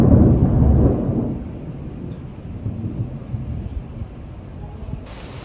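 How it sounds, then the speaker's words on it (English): Thunderstorm over the sea at Barcelona port, a loud low rumble of thunder fading into steady wind and rain noise, with faint voices underneath. "There's a storm on the high seas."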